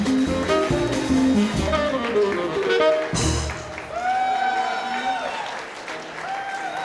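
At a nightclub show, an audience claps and cheers in a sustained burst of applause, with music and a voice audible beneath the dense patter.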